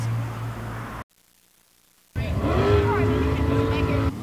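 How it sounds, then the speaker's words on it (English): Race car engines revving at Virginia Motorsport Park during a cash-prize drag race, a loud sustained roar with rising harmonic tones that drops out briefly to silence before surging back in. "Racers rev their engines as they dash for some cash"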